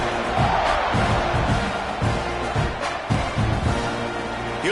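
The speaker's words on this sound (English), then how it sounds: "You think this crowd's going to get loud when their defense comes on the field?" A stadium crowd in an NCAA 26 college football game roars and murmurs continuously, loud and sustained, with rhythmic swells of chanting and cheering, with no clear talk over it.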